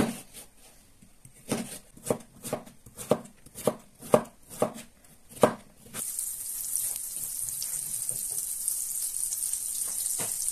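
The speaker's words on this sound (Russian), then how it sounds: "и нарезаю кубиками." A knife chops a large pumpkin into cubes on a board with about ten sharp, evenly spaced strikes up close, then a steady sizzle of frying takes over.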